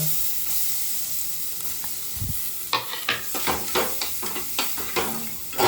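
Hot oil hisses quietly, then a burst of crackling and spattering sizzle follows as onions drop into the pan, with bright pops continuing up close.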